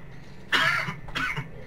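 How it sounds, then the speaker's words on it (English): Two short, sharp coughs from one person, close and clear, separated by a brief pause over quiet background. "Why don't you cough a few more times?"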